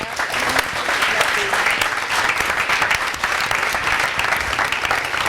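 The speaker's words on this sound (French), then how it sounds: "On va applaudir, s'il vous plaît" A live audience at an evening apéro show applauds steadily, the dense clapping close and continuous for the whole stretch, with some voices mixed in.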